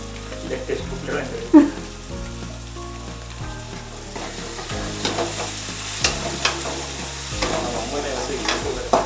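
Chili powder and coriander powder being stirred into egg bhurji in a hot pan, with a steady sizzle and repeated scraping strokes of a spoon close by; a voice speaks briefly.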